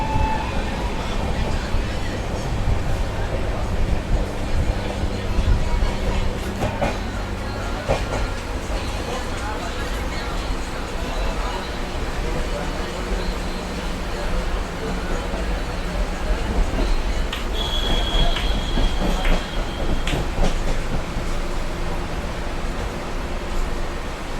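Steady rumble and rattle from inside a moving Grand Trunk Express carriage travelling from Chennai to Delhi, continuous and close, with a brief high squeal and voices talking faintly beneath.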